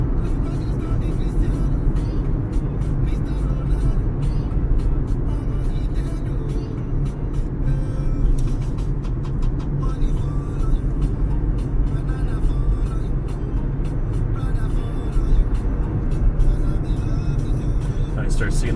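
A car drives through tightening traffic on the French side of St. Maarten near Marigot, with a continuous low rumble of engine and road noise and the passing sounds of other vehicles close by.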